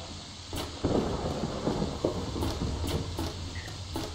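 Steady rain and rumbling thunder from a thunderstorm in the video game Fallout 3, a continuous wash of downpour with several soft thumps and distant rolls spread through.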